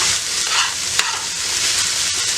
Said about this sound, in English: So I add about half a cup of the pizza sauce to the mixture. And then we just stir it in, as such.